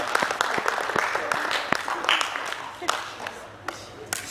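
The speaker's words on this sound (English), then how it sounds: "Give them a round of applause." Audience applause during a talk, a scattered run of claps of moderate loudness that thins out toward the end, with some murmuring in the room.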